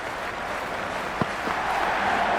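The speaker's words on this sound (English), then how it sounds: "The crowd are making a heck of a lot of noise even before the first ball's been bowled" A big crowd at a T20 World Cup Super 8 cricket match between England and New Zealand keeps up a steady, dense roar throughout, with a brief louder burst partway through and no talk.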